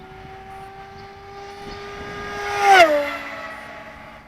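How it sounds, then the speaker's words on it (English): A plane flies past with a steady engine drone that swells louder toward the end, then drops sharply in pitch as it passes close by, with no talk over it. "I really do love this plane, man."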